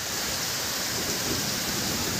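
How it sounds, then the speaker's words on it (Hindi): Heavy rain pours steadily with a dense, close hiss, and deep thunder rumbles beneath it; no voices are heard. "सुन ली ना भाई कितनी ज़्यादा बारिश हो रही है, और बादल भी गरज रहे हैं खतरनाक वाले।"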